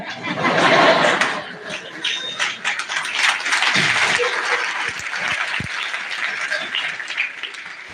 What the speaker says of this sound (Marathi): तिकडून टाळ्या सुरू झाल्या